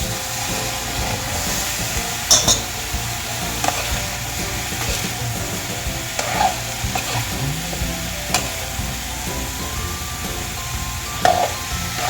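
Bottle gourd and tomato sautéing in a pan, a steady close sizzle with occasional stirring scrapes and utensil knocks, no talk.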